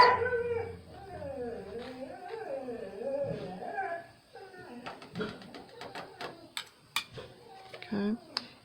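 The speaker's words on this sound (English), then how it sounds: "pardon the doggies." Indoor dogs whimper and howl in wavering, rising and falling cries, then break into several short, sharp yips and barks, fairly close and moderately loud.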